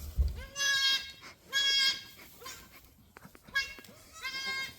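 Goats bleat repeatedly from a farm pen where a doe is kidding, loud harmonic cries coming in several bursts with short pauses between them and no talk over them.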